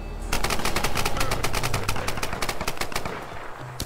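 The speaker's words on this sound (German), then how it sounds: "Hier wird schon geschossen." Rapid automatic gunfire in the Tomb Raider 2013 multiplayer game, a sustained burst of evenly spaced shots, loud and close, on an icy map.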